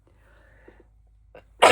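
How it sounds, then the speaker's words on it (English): A single loud sneeze bursts out at the very end after near silence, preceded by a couple of faint sniffs and small noises. "I'm going to sneeze."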